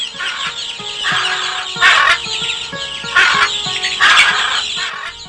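Parrots squawk and chatter as they land to eat grain in an open field, a busy, continuous flock of shrill bird calls with louder bursts every second or so and wing flutters mixed in.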